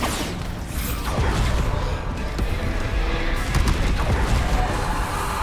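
A Bombarda spell in the video game Hogwarts Legacy fires off as a loud, close burst with a booming crash and whooshing debris, sustained amid battle noise.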